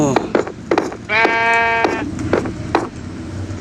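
A sheep in the video game Minecraft gives one clear, drawn-out wavering bleat, loud and close, amid clicks and tapping from play.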